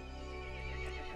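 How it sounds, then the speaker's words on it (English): A horse neighs in Resident Evil Village, a faint, distant whinny set against a steady low ambient drone, with no talking. "The horse grew angry and summoned the other monsters."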